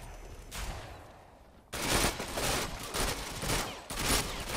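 Rapid bursts of automatic gunfire in the online shooter Ghost Recon Online, with one quieter stretch followed by several loud, close volleys separated by short gaps.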